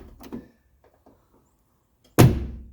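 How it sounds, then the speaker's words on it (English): A 1984 Mercedes 300CD coupe door is swung shut with one solid, loud thunk close by, after faint shuffling and a brief soft knock beforehand. "let's check the door shutting now"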